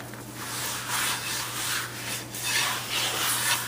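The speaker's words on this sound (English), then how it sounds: "I like to take that same bleachy sponge and just go over my cutting board with it." Steady abrasive rubbing, a bleach-soaked sponge scrubbing back and forth over a cutting board in even, repeated strokes, close and moderately quiet with a low hum underneath.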